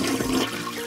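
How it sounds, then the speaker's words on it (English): A toilet flushes in a Peppa Pig cartoon, one continuous rushing, gurgling swirl of water heard close and clear with no voices. "he threw the dirty toilet paper into the toilet and gave it a flush"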